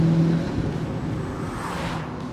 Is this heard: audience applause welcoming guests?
no